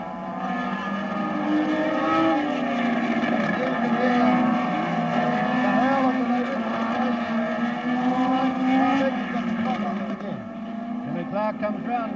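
Racing cars in the 1968 Tasman Series at the Surfers Paradise circuit drone steadily, the engine pitch rising and falling as they lap, with a commentator talking over the noise throughout.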